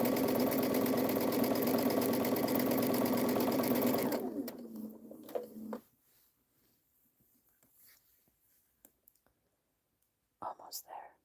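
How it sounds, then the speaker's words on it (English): A sewing machine stitching quilt squares runs steadily and loudly for about four seconds, then slows and stops, leaving faint clicks, handling noises and brief soft sounds near the end. "which is at the end of sewing the second piece on all these squares"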